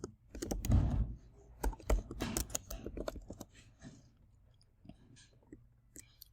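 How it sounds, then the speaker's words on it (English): Quick bursts of keyboard typing, clicky and close, busiest early then thinning into scattered keystrokes. "let me zoom in so that you see what I'm typing"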